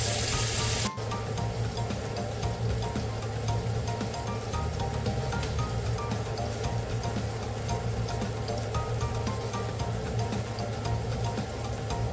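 Onions sautéing in a pan for pork steak, a steady, dense sizzle hissing evenly throughout at close range after a brief clunk at the start.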